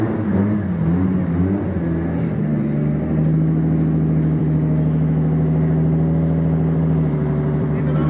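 A loud Mitsubishi Evolution X engine runs at a steady idle, holding a deep, even drone close by for the whole stretch.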